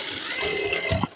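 Rapid mechanical chatter of a Jack industrial sewing machine stitching piping on a garment, a dense continuous whir that stops abruptly near the end.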